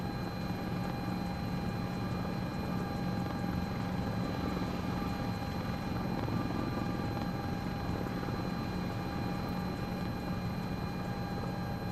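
A helicopter in a flight simulator video game overflies a runway with a continuous, even rotor and engine drone that holds steady from start to finish, with no voices.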